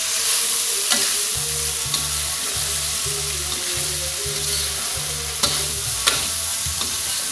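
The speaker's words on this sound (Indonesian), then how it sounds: "tinggal kita aduk-aduk sampai matang bumbunya dan merata sama ati ampelanya" Chicken liver and gizzard being stirred in spices in a frying pan for sambal goreng, a steady sizzle with repeated scraping strokes of a spoon in a regular rhythm, close and clear with no talk.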